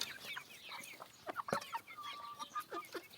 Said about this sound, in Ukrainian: Курчата породи мастер грей.